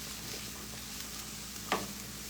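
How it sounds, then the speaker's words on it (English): Sunset spices chicken sizzles steadily in a hot pan, a soft continuous frying hiss with one brief louder crackle near the end, alone with no voices. "So I'm just gonna cook it for a little bit more before I add the pork"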